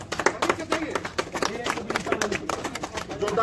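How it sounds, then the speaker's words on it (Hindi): Clapping from people welcoming the team at a cricket match between Jharkhand Police Association and Ranchi Media Press Club, steady and fairly close, mixed with voices talking over it throughout. "जोरदार तालियों से स्वागत"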